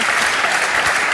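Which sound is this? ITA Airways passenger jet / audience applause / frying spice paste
audience applause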